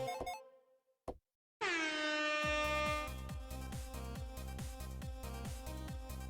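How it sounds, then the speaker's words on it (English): In a game jam video game, an MLG air horn scoring effect blares in a loud, repeated burst of pulsing horn blasts after a few brief electronic tones and a short silence. "all of the judges were pretty unanimous of not liking the MLG air horn when you score"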